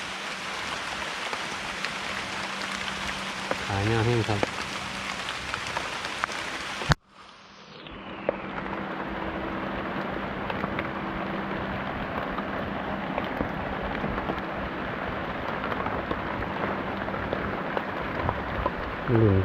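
Steady rain pours down on a wet outdoor spot during mushroom foraging, a dense close hiss interrupted once by a sharp knock and brief dip before resuming, with someone speaking briefly over it.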